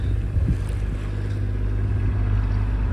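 A boat motors through Dalkey Sound off Dublin, its engine a steady low drone close by, mixed with rushing water and wind buffeting the microphone throughout.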